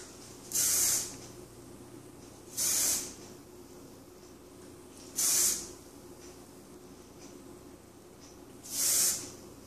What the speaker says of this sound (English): Then you're going to come back and spray each section.